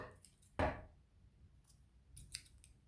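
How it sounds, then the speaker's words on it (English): Scissors snip the yarn ends off a hand-knitted beanie: one crisp, close cut followed by a few faint, soft clicks and rustles of the blades and yarn in an otherwise quiet room. "And then we can just cut the ends off"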